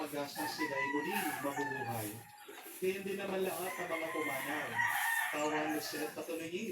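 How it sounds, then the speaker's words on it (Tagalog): Chickens cluck steadily while a rooster crows loudly, with overlapping calls filling the whole stretch. "Maraming mga manok alaga dito mga idol."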